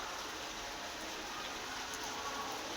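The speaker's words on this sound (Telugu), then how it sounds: "వానలు బాగా కురుస్తున్నాయి" Heavy rain falls in a village during a storm, a dense, steady hiss of drops pouring down without pause, close and even throughout, with no voices.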